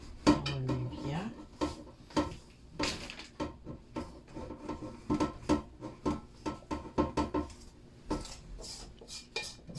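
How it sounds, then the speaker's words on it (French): Dombré dough for a red-bean dish is stirred into a paste in a bowl, with irregular close scraping and knocking of a utensil against the container and a faint voice near the start. "On remue bien."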